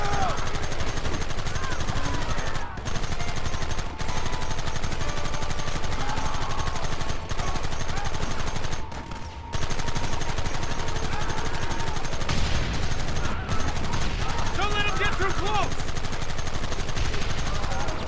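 Red Dead Redemption gunfight with sustained rifle and machine-gun fire crackling continuously at moderate loudness, with brief pauses and shouted voices in between.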